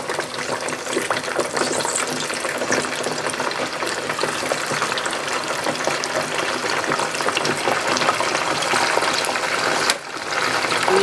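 Yam strips sizzling and bubbling vigorously in hot frying oil, a dense steady crackling hiss throughout, close and loud with no talking.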